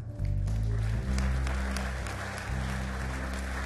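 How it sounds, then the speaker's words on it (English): A church congregation claps for the Lord during a Passover preparation service, dense steady applause sustained under a low organ or keyboard drone, with no voices over it. "Let's give the Lord a hand clap."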